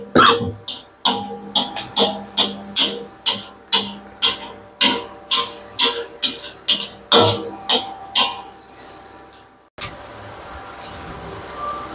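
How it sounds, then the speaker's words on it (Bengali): Repeated sharp coughing from a cook whose spicy masala is frying, a rapid series of about a dozen loud coughs at close range, then a muffled hiss of frying. "ঝাল বেশি হয়ে গেছে কাশি আসতেছে প্রচুর"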